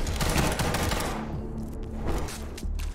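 Gunfire in a noir cyberpunk 2D side-scrolling shooter game: a dense rapid burst of shots at the start, then scattered shots and thuds over a low background score.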